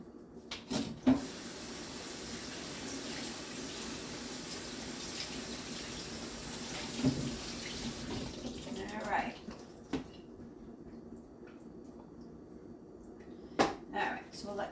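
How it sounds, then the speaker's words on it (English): Food rinsed in a small Dollar Tree strainer under a running kitchen tap, a steady close hiss of water for about eight seconds, then quieter drips, clinks and handling knocks. "Just rinse these off a little bit."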